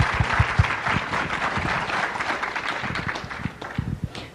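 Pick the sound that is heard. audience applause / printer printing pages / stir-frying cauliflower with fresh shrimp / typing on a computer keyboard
audience applause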